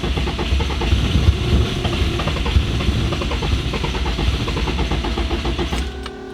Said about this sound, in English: Justin's gonna give it a little bit of throttle